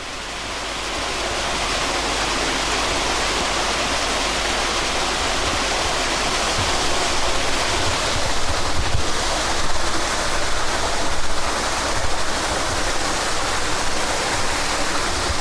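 Water rushes steadily at Freeman's Meadow Lock on the river in Leicester, a loud continuous roar like a weir that fills the whole scene without pause.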